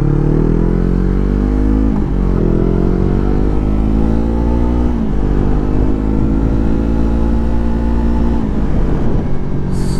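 A 2020 Yamaha R3 motorcycle with a loud, close engine drone throughout, rising in pitch as it accelerates, dipping briefly at gear shifts around two and five seconds, then climbing again.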